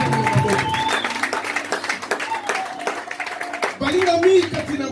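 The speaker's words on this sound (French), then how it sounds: "On acclame la parole de Dieu" A church congregation applauding during a Sunday service, steady crowd clapping that fills the room and rises toward the end, mixed with voices talking.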